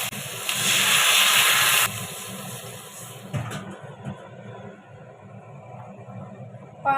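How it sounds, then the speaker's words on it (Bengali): Water poured into a pan of frying vegetables and spiced paste with salt and turmeric, producing a loud hissing sizzle that cuts off abruptly, then a quieter bubbling simmer with a few clinks of a utensil. "এবার জল দিয়ে দেবো।"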